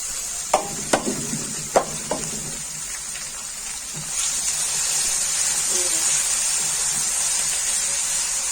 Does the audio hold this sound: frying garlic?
yes